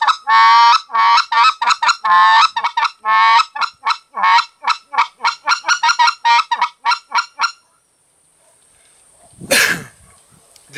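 Hand-call imitation of a white-fronted goose, a fast run of honking yelps freely alternating low and high notes, loud and close, around seven seconds, followed by silence and a brief breathy burst at the end.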